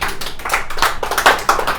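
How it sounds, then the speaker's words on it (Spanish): Church congregation clapping during a Pentecost service, a loud, close round of many hands applauding in quick uneven bursts with no talk over it. "Dar un aplauso al Espíritu Santo."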